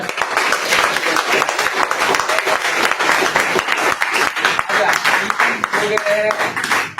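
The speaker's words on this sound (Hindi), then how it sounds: "ताली मार दिया कस के" Students in a classroom clap hard together, a dense, loud burst of applause sustained throughout with voices mixed in.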